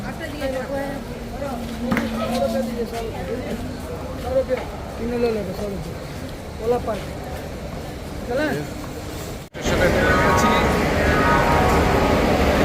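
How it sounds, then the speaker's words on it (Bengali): Busy indoor crowd ambience at Howrah railway station with echoing chatter, footsteps and distant announcements or machinery, then a sudden cut to a louder, steadier rumble near the end. "এবার স্টেশন থেকে বাইরে যাচ্ছি"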